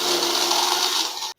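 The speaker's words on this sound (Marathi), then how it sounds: "आणि हे चांगलं आपल्याला आता मिक्सरला फिरवून घ्यायचंय।" A kitchen mixer whirs at full speed, blending saffron pistachio lassi in a loud, steady grinding roar that stops abruptly after a little over a second.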